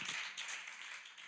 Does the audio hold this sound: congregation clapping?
yes